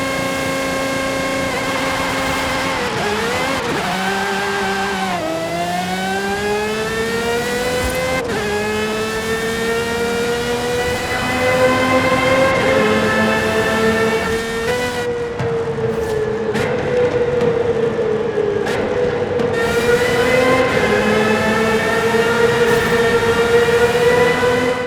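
Aston Martin Valkyrie AMR Pro V12 engine in Forza Horizon 5, a loud continuous high-pitched scream rising and falling through gear changes, with sustained revving and no talk.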